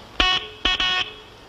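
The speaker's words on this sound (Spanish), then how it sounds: "El mejor claxon para el mejor carro del mundo." Car horn honking, three short, bright blasts, the second and third nearly back to back, loud and near against a quiet background.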